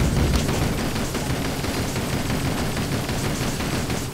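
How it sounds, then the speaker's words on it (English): Sustained machine gun fire from the Toy Soldiers video game, a dense unbroken rattle of rapid shots with booming low rumble, loud and continuous throughout with no talk. "I tend to find that the machine guns are the absolute best against these, so I'll just take over here and mow them down myself"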